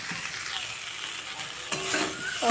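Potatoes and green banana fry in oil in a pan, a steady soft sizzle with scraping stirs near the end and no voices.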